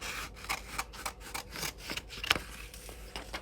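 Scissors snip through a polyester ribbon template in a quiet room, a rapid series of short, faint cutting strokes close by.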